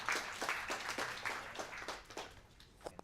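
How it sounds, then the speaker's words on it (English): A conference audience applauding a speaker, dense clapping throughout that gradually thins out toward the end with a few last scattered claps. "Let's give a round of applause to Jeff."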